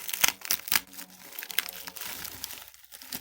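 Sticky cellophane tape being peeled and crinkled off a Gigabyte graphics card box, a close run of sharp crackling tears and rustles in uneven bursts.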